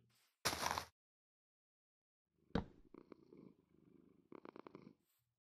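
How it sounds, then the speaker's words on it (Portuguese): A cat purrs inside the Minecraft video game, heard as short soft bursts separated by silence, along with a few light clicks and game sounds, with no talking. "Gatinho."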